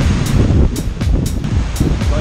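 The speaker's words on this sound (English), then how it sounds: "The problem is the waves are still a lot, right? Still high, it's not that organized" Ocean waves surge and wash against a sailboat running fast, wing on wing, mid-crossing of the Atlantic, a loud continuous roar with periodic splashes and heavy wind buffeting the microphone.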